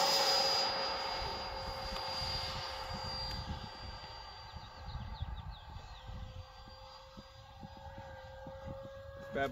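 Freewing 90mm F-22 radio-controlled jet flies at altitude, a steady whining turbine-like tone with a faint droning hum carrying outdoors, fairly distant and consistent throughout with light wind noise beneath.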